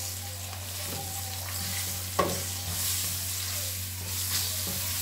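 Chicken adobo with bay leaves and crushed black pepper stirred in a hot pan, a steady quiet sizzle under soft scraping strokes and one sharp utensil knock.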